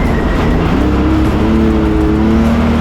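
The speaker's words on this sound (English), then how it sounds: "A rear-wheel drive BMW around this track to find pace." Rear-wheel drive BMW race car in a circuit race series, its engine droning loudly and steadily with rising pitch as it accelerates along the track, recorded close throughout with no talk.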